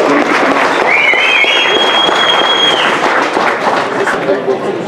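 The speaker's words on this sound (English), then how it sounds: "applause." A tech-talk audience claps loudly and steadily for a hacking-series presenter, a dense continuous roar of many hands close up, with a faint whistle rising briefly over it.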